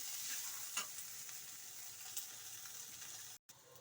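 Garam masala being stirred into a frying potato mixture, with a steady sizzle under a few sharp spoon scrapes against the pan and a short break near the end.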